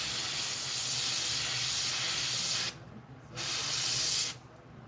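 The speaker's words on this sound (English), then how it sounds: "It sprays for about 2 seconds and then clogs." A sprayer hisses steadily for under three seconds, cuts out abruptly, then gives one more short hissing burst before stopping; the spray is close and loud with no talk.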